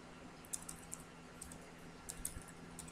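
Soft, quick clicks of a computer keyboard being typed on, arriving in short irregular bursts of keystrokes against quiet room tone, close but faint, with no talking.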